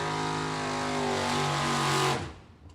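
A Mopar drag race car at a Super Pro bracket event roars loud and close at a steady high-revving pitch for about two seconds, then cuts off abruptly as it passes.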